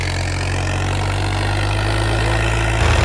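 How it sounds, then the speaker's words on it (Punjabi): A tractor hitched to a 9-foot rotavator runs in a steady, loud, close engine drone with a deep low hum. The drone shifts slightly near the end. "ਟਰੈਕਟਰ ਬੰਦ ਨਹੀਂ ਹੋ ਰਿਹਾ"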